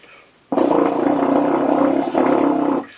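A horn player sustains a big, loud, low flutter-tongued tone with no lip buzz, the tongue driving rapid oscillations; one long burst with a brief dip before it resumes, played alone and up close.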